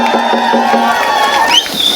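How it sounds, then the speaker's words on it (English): A crowd at a tribute gathering for elder Murray Sinclair cheers loudly, a dense wash of voices with a rising whoop near the end, close and continuous for the whole stretch. "So all of you who are there with me, give us a cheer."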